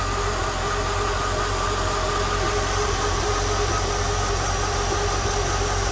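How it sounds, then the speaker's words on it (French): A Mercedes SL 500 V8 running on E85 ethanol idles steadily with a constant low rumble and an even mechanical drone, close and unbroken, with no voices. "à l'oreille, on peut avoir le sentiment que le moteur ne tourne pas parfaitement"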